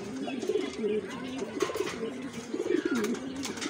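A pair of pigeons pairing up in a home loft give low, rolling coos repeated close by, with faint voices in the background.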